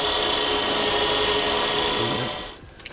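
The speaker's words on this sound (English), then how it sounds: "To do this, I'm going to use a number 12 self-tapping screw." A number 12 self-tapping screw driven into the frame of a 2014 Chevrolet Silverado 2500 by a power driver, a loud steady whirring drone that holds for over two seconds and then winds down, with no voices.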